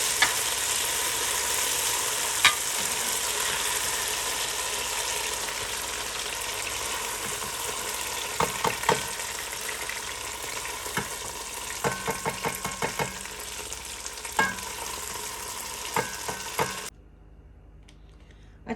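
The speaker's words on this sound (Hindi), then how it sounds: "चिकन हमारी शैलो फ्राई हो गई है।" Chicken shallow-fries in a pan with a steady, close sizzle and crackle of hot oil, scattered with small pops and clinks, before cutting off near the end.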